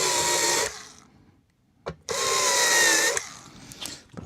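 A power drill whirs in two short bursts, deburring drilled holes in a guitar amplifier chassis during the build, with a sharp click between them and a brief whine trailing off.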